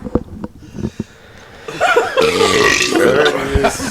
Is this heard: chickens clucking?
no